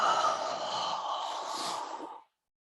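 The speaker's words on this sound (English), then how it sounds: "I actually was making that sound with each of my exhales to transfer my body weight." A person exhales audibly in one long, breathy push lasting about two seconds while shifting body weight during a floor movement, close and clear, then it cuts to silence.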